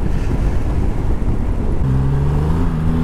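Triumph Rocket 3 GT motorcycle cruising in sixth gear at about 100 km/h and just over 2000 RPM, a steady loud engine drone buried in heavy wind roar, with a low sustained tone emerging near the end.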